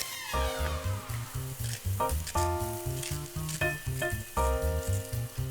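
Chicken breast sizzles steadily in a hot pan, crackling up close, while music plays in the background.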